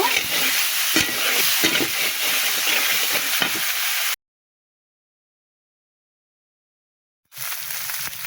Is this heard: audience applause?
no